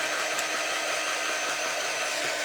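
A steady, loud whoosh of a crafting quick-dry tool blowing air, continuous and close with no breaks.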